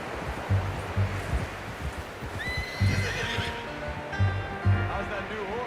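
In the Red Dead Redemption 2 video game, a horse's hooves thud in a steady rhythmic clop while it lets out two shrill, wavering whinnies, close and prominent, with faint outdoor ambience.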